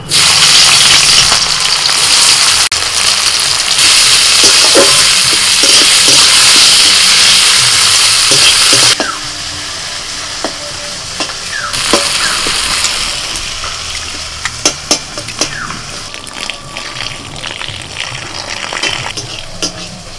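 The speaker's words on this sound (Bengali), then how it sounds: "পেঁয়াজটা অর্ধেক ভাজা হয়ে গেছে।" Chopped onion with bay leaves frying in mustard oil in a wok, a loud dense sizzle for the first half that drops to a softer crackle, broken by clinks and stirring scrapes.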